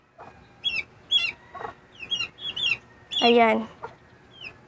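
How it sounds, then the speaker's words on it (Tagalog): Domestic chickens cluck noisily in a series of short, close calls, with a louder, longer, rooster-like call in the middle; a person briefly speaks one word. "Medyo maingay yung ating mga manok ngayon, no?"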